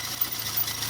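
A fuel-injected Saab 900 engine, parked after weeks standing in the rain, idles in a steady low hum with faint rattly texture, heard close and alone for under a second.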